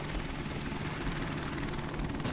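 A helicopter in a shooter video game gives a steady, fairly faint whirring rotor drone with no talk over it.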